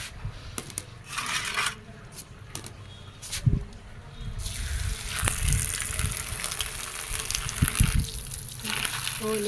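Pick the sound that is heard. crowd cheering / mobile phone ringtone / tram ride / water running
water running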